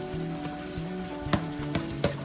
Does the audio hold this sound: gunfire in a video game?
no